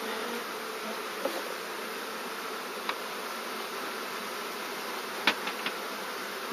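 Package bees buzz in hive frames in Donegal. A steady, dense hum fills the whole stretch, with a few faint knocks and clicks over it and no talking.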